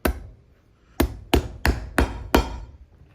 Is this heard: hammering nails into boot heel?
yes